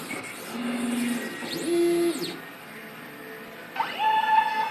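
DTF printer running a head clean and nozzle check, with short mechanical whirs and rising and falling motor sweeps, moderately close with quiet gaps between them.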